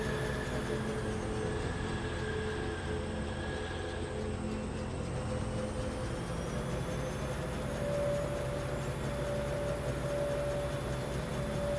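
Steady rumbling drone of a train moving along tracks in the factory-building game Foundry, a continuous low mechanical hum with a faint high whine, running alone without talk.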